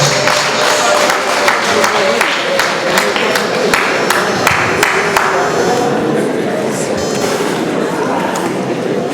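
At a civil wedding, a crowd applauds with dense, continuous clapping that is loud and close at first, then thins out, while a voice speaks over it.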